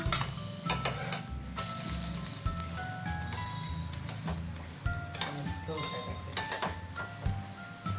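Sabudana paratha roasting on a pan, with a steady low sizzle and light scraping running throughout, a continuous background tone layered underneath, and occasional sharper ticks of cooking activity.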